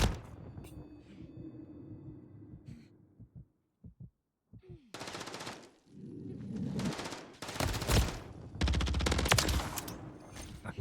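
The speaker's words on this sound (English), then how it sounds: "Shoot me 3 times in the body" Gunfire in Call of Duty: Modern Warfare III ranked play, dense bursts of rapid automatic shots in the latter half after quieter game sounds, loud and close, with brief talk early on.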